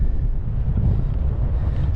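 Steady, heavy, cold wind buffeting the microphone on a mountain summit ridge in Scotland, a continuous low roar with no breaks and no voices.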